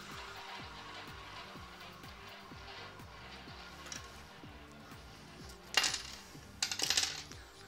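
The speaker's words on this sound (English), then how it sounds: "You could hear something that sounded like a penny dropping then." A couple of coins dropped beside a roulette wheel land in two short, bright metallic clatters late on, over a steady, quiet mechanical rhythm.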